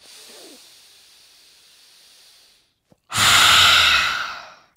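Forceful breathing exercise during a morning challenge routine: a soft, drawn-out inhale followed after a brief pause by a loud, rushing, forceful exhale, close and alone.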